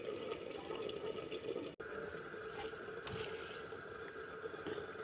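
Water pours steadily into a pot of fried soybeans and rice, a continuous close splashing fill with one brief break partway through.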